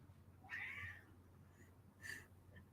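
A cat meows twice, a drawn-out call near the start and a shorter one about two seconds in, close by against a low steady hum, with no talking.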